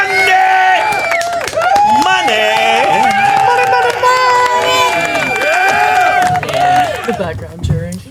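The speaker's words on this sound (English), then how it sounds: "The background cheering" Cheering crowd at a country music show, a loud continuous roar of voices filling the whole stretch, with a live band or singing woven through it.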